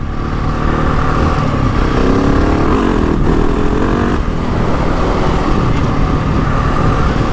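A GasGas ES 700 dirt bike fitted with a medium dB killer idles and runs steadily close by, a loud constant engine drone with a slight rise in revs partway through.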